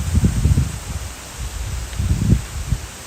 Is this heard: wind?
yes